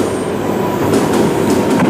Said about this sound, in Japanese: 新幹線が在来線の線路を走ってるんですよ。